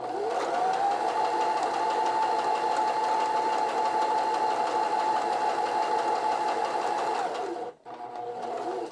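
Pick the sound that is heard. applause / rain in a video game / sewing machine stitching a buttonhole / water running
sewing machine stitching a buttonhole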